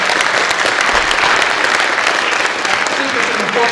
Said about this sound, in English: Just clap for women.